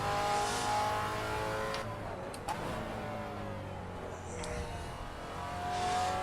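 Race car engine accelerating hard around a circuit, a steady loud drone with rising harmonic sweeps as revs climb and gears change, plus brief transient clicks midway.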